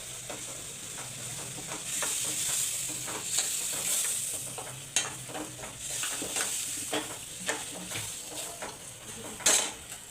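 Garam masala and cumin being stirred in a hot pan for a dry chicken dish produce a continuous sizzle, broken by regular scraping strokes and a few sharp metal taps against the pan.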